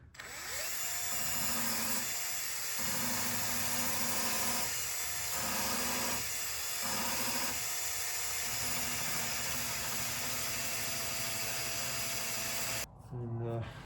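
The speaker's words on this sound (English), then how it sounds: "The slow speed of the drill is actually working to my advantage because it's not taking too much off at once." A hand drill runs at slow speed, grinding and shaping a drop point knife blade, a steady mechanical whine with several brief dips in tone before it cuts off near the end.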